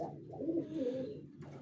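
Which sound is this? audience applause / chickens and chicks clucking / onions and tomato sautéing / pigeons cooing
pigeons cooing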